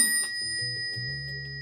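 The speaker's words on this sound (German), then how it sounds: "Auslösen, um die Klingel auszulösen." A Crane Bell Co. E-NE bicycle bell on a road bike's drop handlebar rings with a bright metallic ding, its clear tone lingering while low background hum continues underneath.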